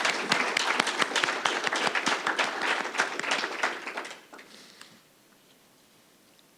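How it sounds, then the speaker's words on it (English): An audience at a press conference applauds a sheriff, with dense clapping that holds for about four seconds, then thins out and dies away into quiet room tone. "Let's have a round of applause again for the sheriff."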